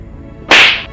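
A sharp, loud slap sound effect in a Hindi horror story: a single crisp smack with a brief ringing tail, standing alone against quiet background.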